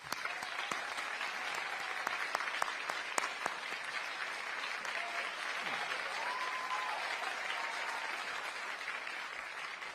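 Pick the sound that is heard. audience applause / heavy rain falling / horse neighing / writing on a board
audience applause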